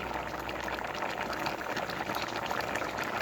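Sliced bananas simmer in coconut milk and sugar in a pot on the stove, giving a steady, soft bubbling with faint popping and no talk.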